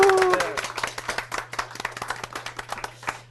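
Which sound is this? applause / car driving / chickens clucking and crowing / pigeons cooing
applause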